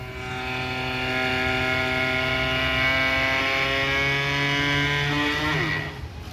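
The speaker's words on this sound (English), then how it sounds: "So lowering it down, it's a matter of pressing the tilt down button" Electric trolling-style drive motor on a 2019 Paddleking LoPro Cruiser boat, heard during its powered tilt-down: a steady, close mechanical whine with layered tonal harmonics that drop slightly in pitch near the end before cutting off.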